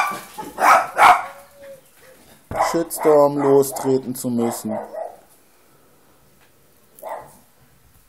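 A dog barks nearby in a few sharp, loud bursts between stretches of someone talking in German, then gives one last short bark.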